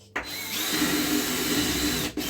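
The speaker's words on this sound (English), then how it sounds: "so I'm just going to drill in" A power drill spins up sharply and whines steadily for about two seconds, drilling in close up during a DIY mudroom build, then cuts off abruptly.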